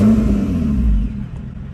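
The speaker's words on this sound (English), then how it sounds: "Turn the car on." A Lotus Evora GT starts up with a short, loud low rumble that settles after about a second into a quieter idle hum, heard up close with no talking.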